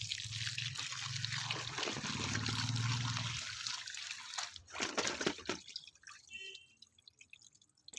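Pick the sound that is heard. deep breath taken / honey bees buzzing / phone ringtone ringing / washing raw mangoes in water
washing raw mangoes in water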